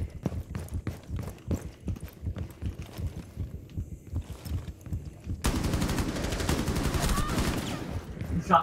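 Rainbow Six Siege video game gunfire: a run of sharp single shots, then a sudden sustained loud burst of rapid fire, with brief voices underneath.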